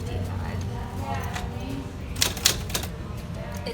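A vintage typewriter at an antique mall gives a quick cluster of sharp mechanical key clacks amid a steady murmur of voices and shop background noise.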